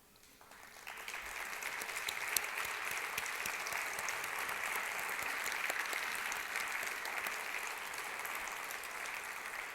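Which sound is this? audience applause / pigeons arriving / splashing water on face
audience applause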